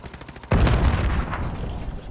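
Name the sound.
gunshot in the video game Modern Warfare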